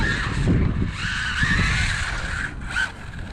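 An RLAARLO AMX-12 RC car drives on a wet road, its tires skidding and hissing in short scrubbing bursts with a faint motor whine, then a brief final slide.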